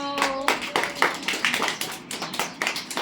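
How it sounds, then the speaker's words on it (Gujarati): Children clap their hands in a classroom, a run of quick, fairly sharp claps in an uneven rhythm, with a brief voice at the start. "તાળી પાડો."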